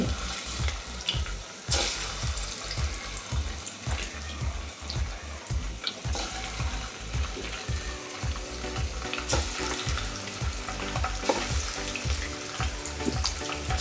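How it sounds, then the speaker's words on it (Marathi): Eggs coated in turmeric and masala frying in hot oil for a spicy Marathi egg curry, a steady dense sizzle with repeated soft stirring knocks throughout, close and fairly loud, no talking. "त्याला असं थोडंसं मसाला आणि हळद अशी लावून घ्यायची आणि ते तेलामध्ये थोडेसे फ्राय करून घ्यायचे"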